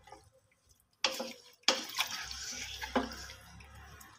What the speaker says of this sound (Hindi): इसको अच्छी तरह से मिक्स करना है।